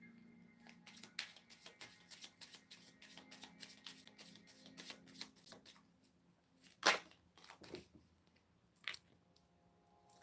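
Tarot cards shuffled for a reading: a rapid run of crisp, papery riffles and slaps close by for about six seconds, then a few scattered louder card snaps and shuffles, with no talking.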